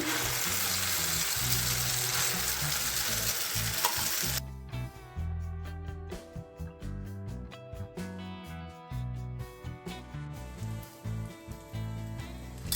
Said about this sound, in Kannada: ತವ ಬಿಸಿಯಾಗಿದೆ ಆಮ್ಲೆಟ್ ಹಾಕ್ಕೊಳ್ಳೋಣ ನಿಧಾನಕ್ಕೆ